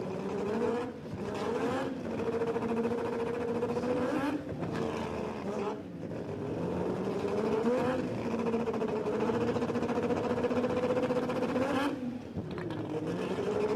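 Piston-engine and rotary-engine drag cars race at the Brisbane Jamboree in Australia, a steady distant engine roar with rising revs, heard under an announcer's commentary.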